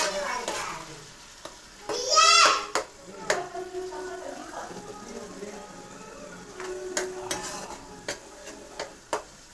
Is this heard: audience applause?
no